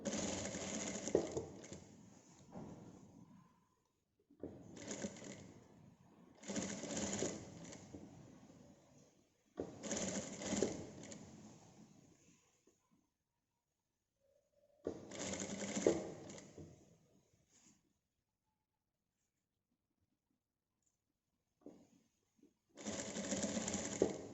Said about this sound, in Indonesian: Jadi menjahitnya pas di tanda rudder atau di tengah-tengah jahitan kerut.